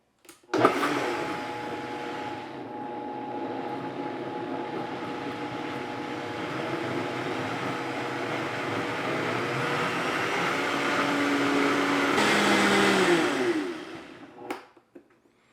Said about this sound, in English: I'm going to blend this for 30 seconds to a minute